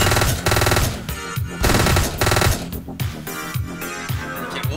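Rapid automatic gunfire from the top-down shooter Hotline Miami, repeated bursts of loud shots over a driving music track, no talking.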